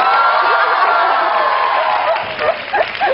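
A studio audience at a televised talk-show interview cheers and whoops, a loud, steady crowd roar that carries throughout, with a few higher shouts breaking through near the end.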